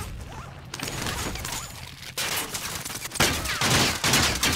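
Scattered automatic gunfire in Call of Duty Warzone, moderately loud bursts and rattles that grow denser and nearer toward the end, with no talk over them.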